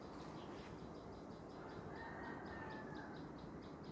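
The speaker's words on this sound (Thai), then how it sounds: "เจ้ากระรอกร้องควักควับควับ" A squirrel gives a chattering call outdoors: a rapid, evenly spaced string of sharp chirps runs through the whole stretch at moderate distance, set against steady background noise with no talking.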